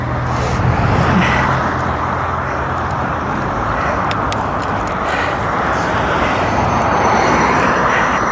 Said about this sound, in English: I do hear the cars